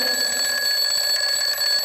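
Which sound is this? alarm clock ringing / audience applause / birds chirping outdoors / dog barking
alarm clock ringing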